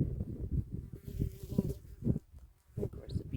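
Bees and flies buzz close around a person at a huckleberry-picking hunting camp, droning in uneven swells that fade briefly and return, with no talking.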